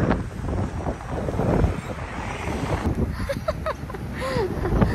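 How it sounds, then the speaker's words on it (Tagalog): Cool wind blowing outdoors on a hot day, gusting across the microphone in a continuous rough rush, with faint chirping sounds in the second half. "Pero malamig yung simoy ng hangin."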